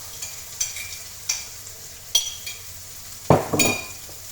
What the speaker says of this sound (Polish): I wlewamy na patelnię do pieczarek i boczków.